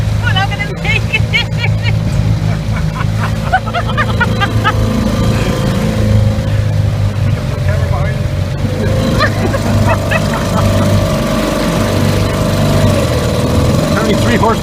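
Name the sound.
small 3 horsepower boat engine running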